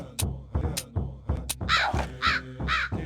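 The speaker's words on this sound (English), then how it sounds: "A crow." A crow in a video game caws loudly and close, with several harsh calls in an uneven series and short pauses between them.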